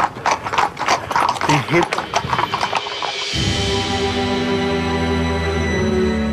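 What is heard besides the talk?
horse hooves clip-clopping while being ridden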